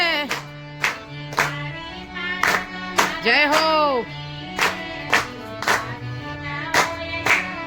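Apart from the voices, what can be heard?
audience clapping hands during devotional satsang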